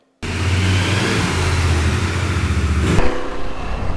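A Yamaha Tenere 700 motorcycle rides out on a test ride after a brake fix, its engine a steady loud drone with wind rush that rises slightly before a shift near the end.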